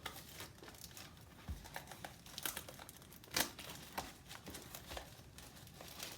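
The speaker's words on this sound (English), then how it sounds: "Rip that seal off." Foil seal being torn off a 1992 Donruss baseball card pack, a close crinkly crackle of wrapper with several sharp ripping bursts, one loudest near the middle, with no talking.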